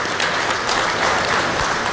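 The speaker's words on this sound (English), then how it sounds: "Give her a round of applause." An audience at an elite livestock showmanship competition applauds, a dense, even burst of clapping from many hands filling the whole moment.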